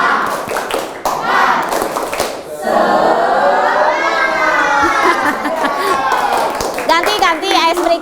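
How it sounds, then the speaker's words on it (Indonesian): A school class performs a rhythmic spirit clap (tepuk semangat) together, sharp hand claps in patterned bursts mixed with children's chanting voices and classroom chatter, loud and close throughout. "Cik, tepuk semangat lah."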